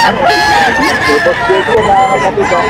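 Roosters at a busy fighting-cock market in Grotto, Bulacan crow and cluck continuously, several birds overlapping loudly and close, with crowd noise and voices mixed in underneath.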